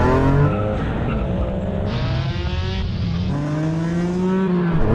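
Sports cars racing, a Nissan R34 GT-R and a Honda NSX, with loud, close engines rising and falling in pitch through gear changes and high revs, continuous throughout.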